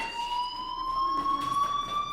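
Fire alarm blaring in the Life is Strange video game, a loud, continuous electronic tone that rises slightly in pitch and holds steady, with faint background noise and no speech.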